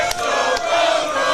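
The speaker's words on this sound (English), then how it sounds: "can I just get a little "Let's go Broncos"?" Crowd of Denver Broncos fans shouting a short unison chant, loud and dense, filling the whole moment with massed voices.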